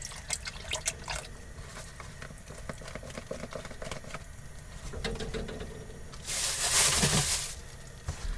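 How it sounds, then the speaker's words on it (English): Water pours into a hot pan with tomato and chicken leftovers with a crackling sizzle, building to a loud hissing burst near the end before settling. "So I've added a bit of water to this just to get out the dregs."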